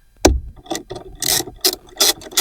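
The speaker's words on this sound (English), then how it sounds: "So we'll grab our 10mm socket and ratchet." A 10mm socket and ratchet loosen the battery terminal nut on a 2021-2025 Jeep Grand Cherokee, producing a series of sharp, close ratcheting clicks in uneven bursts.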